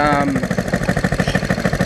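Honda XR100 motorcycle engine fitted with a two-stroke exhaust, started after sitting nearly six years, running with a rough, rapid pulsing beat close by, loud and steady.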